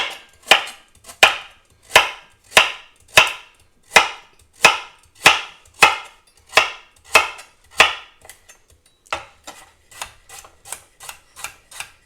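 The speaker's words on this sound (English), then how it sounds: "I will cut my carrots in slices" Knife slicing carrots on a cutting board for a rainbow salad: about fifteen crisp, even chops at a steady rhythm, close and clear, with the last few cuts coming quicker and lighter.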